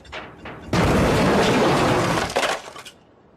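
A 1980s BMW dropped upside down from eight feet lands with a sudden loud crashing impact of crumpling metal and breaking glass, followed by a long rattling crunch and scattered clinks as debris settles.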